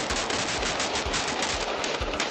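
Rapid bursts of gunfire crackle in a continuous, dense stream, loud and close, with no voices.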